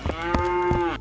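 A cow being loaded onto an animal transport truck gives a single loud, close moo, a steady tonal bellow lasting about a second with no talk.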